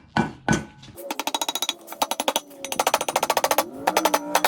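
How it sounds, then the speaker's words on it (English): Brake caliper sleeves on a Honda Pioneer side-by-side are tapped into place with a hammer: two heavier knocks, then fast runs of sharp metallic taps in quick bursts, close and clear. "Now mine, for some reason, are sticking a little bit, so I'm just gonna tap them in."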